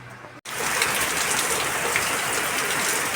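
After a brief cut, heavy rain pours down in a dense, continuous roar of drops on surfaces, fairly close and loud.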